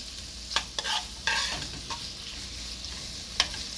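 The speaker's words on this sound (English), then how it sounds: "So let all of this be nicely coated with oil," Bitter gourd pieces stirred and frying in oil in a pan, a faint steady sizzle broken by a few scraping stirs of a spoon, heard close with no speech.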